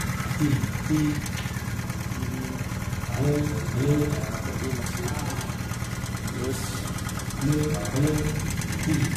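A 1980s Honda Squash automatic scooter engine runs at a smooth, steady idle, a low continuous hum close by, with voices talking over it throughout.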